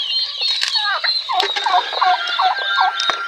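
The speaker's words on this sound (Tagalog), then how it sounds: "bagong pisa rin ito" Newly hatched chicks peep in a loud, close, continuous chorus of high, rapid chirps with overlapping trills and a few sharp calls, with no talk.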